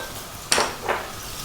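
A spoon stirs lamb tibs with garlic frying in a pan, giving two quick scraping strokes over a faint, steady sizzle.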